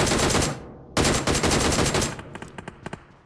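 Bursts of automatic gunfire in PUBG Mobile, loud and close: a sustained rattling volley, a brief pause, another long volley, then a few scattered sharper shots trailing off, with no talk over it.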